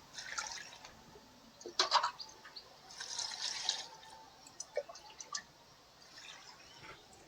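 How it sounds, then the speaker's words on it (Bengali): Water running and dripping as cut potatoes and malabar spinach are rinsed, with faint splashes and trickles coming and going, quiet and close, no talking. "এবার জল দিয়ে ধুয়ে নেব"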